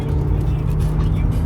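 Cars including a Ferrari and a Porsche driving on a European highway, with a steady, continuous engine and road roar close by and no clear pass-by peaks.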